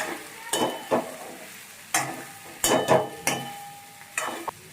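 Spiced vegetable mixture stirred in a pan, with salt and chili mixed in: several distinct scraping, clattering stirs in irregular bursts over a soft sizzle, close and moderately loud, no voices.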